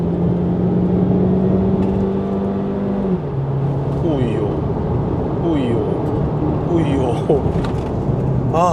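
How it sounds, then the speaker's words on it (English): A Morris Garage (MG) SUV cruising at lower speed, with a steady engine and road drone from inside the cabin, engine tones that shift and step down as the car slows, and someone talking over it. "Now you can hear the car at lower speeds."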